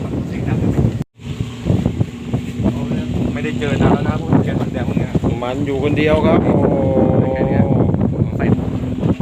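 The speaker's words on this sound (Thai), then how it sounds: "ลมแรงยิบหายแล้วฝนก็ตกพงๆนะครับ" Strong wind gusts buffet the microphone beside the Chao Phraya River while fishing in rain and stormy weather, a steady rushing roar under loud, excited Thai speech throughout.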